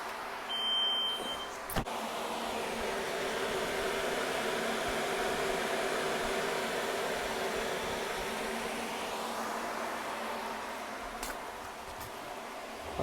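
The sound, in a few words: electric radiator fans running in Audi A4 B5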